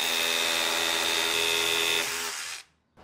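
A DeWalt DCH172B Atomic 20V rotary hammer running on an 8Ah battery drills with a steady, loud, close buzzing whir for about two seconds. It then winds down and stops, with a short burst at the very end.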